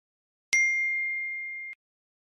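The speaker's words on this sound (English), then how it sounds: "that's a notification bell, like on a phone" A single bright phone notification bell dings once with a sharp strike, then rings out as a clean sustained tone for about a second before cutting off into silence.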